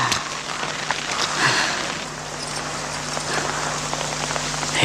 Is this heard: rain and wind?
yes